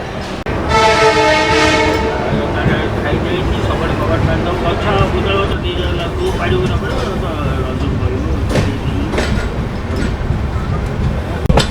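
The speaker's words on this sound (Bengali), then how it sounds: "ট্রেন ছাড়লো, ছাড়ার আগেই 10 মিনিট লেট" A passenger train pulls away from the station with a loud, sustained horn blast at the start, followed by steady rumbling and rattling of the rail cars, with voices faintly audible underneath.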